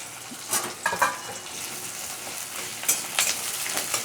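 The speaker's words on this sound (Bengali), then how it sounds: "তার সাথে আমি দুটো পেঁয়াজ কুচি দিলাম।" Chopped onions frying in hot oil after bay leaf tempering, a steady soft sizzle with a few scraping stirs and light clinks scattered through, no talking.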